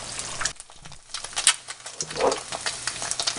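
An egg frying with a soft yolk in a pan for breakfast tacos, a steady close sizzle with faint bubbling pops and small scraping touches, no talk.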